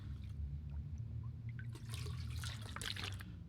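Water is collected from a toilet in The Long Dark video game: a faint trickling, splashing pour with bursts of dripping and sloshing, alone over low background hum.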